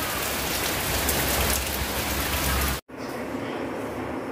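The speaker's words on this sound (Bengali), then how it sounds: "বৃষ্টি হয়েছে, রহমত, আল্লাহ রহমত, রহমতের বৃষ্টি" Steady rain pours down onto surfaces, a dense continuous hiss close by that cuts out abruptly for a moment, then returns somewhat softer and thinner.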